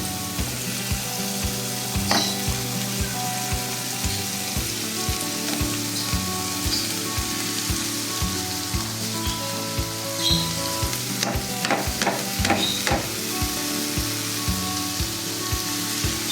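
Chopped vegetables frying in a pan with onion and chili, a continuous crackling sizzle with occasional sharper pops and stirring, steady and close throughout.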